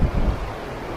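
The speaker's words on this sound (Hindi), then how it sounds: "और एक ये जो पानी की आवाज़ है ना पीछे, वो अल्टीमेट है" Flowing river water in Ladakh's Nubra Valley, a steady close rushing wash with a low rumble, loudest at the start and then settling into an even, continuous flow with no voices.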